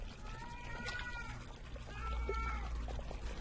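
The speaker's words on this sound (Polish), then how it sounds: "Słyszę kota, czy mi się zdaje?" A cat in a horror video game gives a couple of faint, drawn-out meows over a low ambient rumble, the calls soft and somewhat distant.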